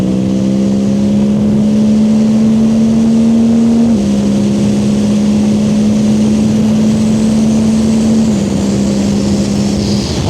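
Suzuki GSX-8R motorcycle on stock exhaust with an ECU flash, engine droning steadily and loud while riding at near-constant speed, with a slight shift in pitch around the four- and eight-second marks.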